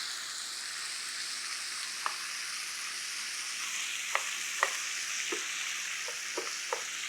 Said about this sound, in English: We're going to saute this for just a couple of minutes